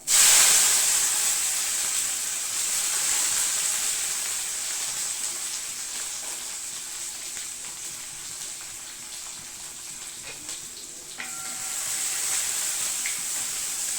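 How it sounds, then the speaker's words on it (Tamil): Shallots and garlic dropped into hot oil with mustard and fenugreek seeds, a loud steady sizzle and hiss that bursts up at the start, eases slightly, then flares again near the end. "இதில் நம்ம வந்து எடுத்து வச்சுருக்க சின்ன வெங்காயத்தையும் பூண்டையும் சேர்த்துக்கலாம்"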